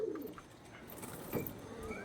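Pigeons offered for sale as a breeding pair give soft, low cooing calls in short bursts, fairly close, with faint background noise and no talking.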